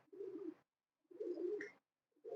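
A pigeon coos in two low, rounded calls with a short pause between, close and clear against a quiet background, a third coo just beginning at the end.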